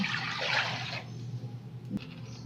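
Water gushes from a basin into a cooking pot for chow mein, a loud, splashy pour lasting about a second before it stops, leaving only a quiet room tone and a small knock.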